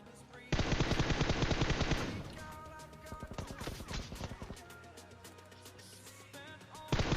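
Rapid automatic gunfire in Free Fire rattles loudly for about two seconds, then breaks into scattered bursts and single shots, with a final loud burst at the end.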